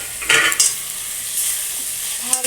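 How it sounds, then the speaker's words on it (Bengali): A spoon stirs fried potato and pointed gourd through spice paste in a pan for dhokar dalna, making a few quick scraping strokes over a close, steady sizzle. "ভালো করে নাড়তে হবে"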